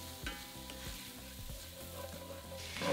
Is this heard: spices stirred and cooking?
yes